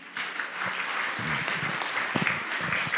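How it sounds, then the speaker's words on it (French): A church congregation applauds during a sermon, steady clapping with voices calling out and murmuring over it throughout. "On applaudit le Seigneur pour ça."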